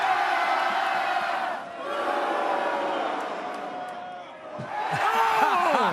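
A college football crowd roars and cheers at a pregame show, a dense, loud wash of voices that dips briefly and swells again, with whoops and shouts rising near the end.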